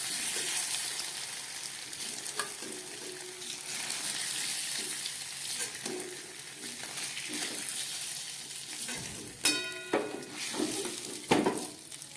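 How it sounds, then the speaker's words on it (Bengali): Hot oil crackling and sizzling in a pan, with a few sharper pops and clinks near the end as dried red chillies and bay leaf drop in. "এই গরম তেলের মধ্যে আমি দিয়ে দিচ্ছি 2টো শুকনো লঙ্কা ফোড়ন, সঙ্গে একটু তেজপাতা দিচ্ছি"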